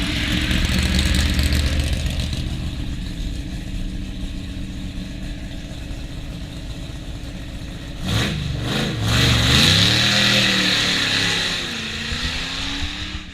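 A Ferrari race car at the Goodwood Festival of Speed idles with a loud, rough, low rumble, then gives a few sharp throttle blips and a longer rising rev before settling back to a steady drone.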